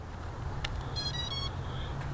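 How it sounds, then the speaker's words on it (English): A long electronic beep from an MJX Bugs 6 drone's remote controller as it links to the drone, a steady tone with harmonics lasting about half a second over low background hum, preceded by a couple of faint clicks. "okay, so I got a long beep there on the controller"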